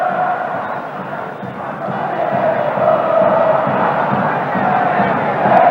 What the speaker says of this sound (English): Boca is the cry, and the crowd really getting behind their team and warming to this one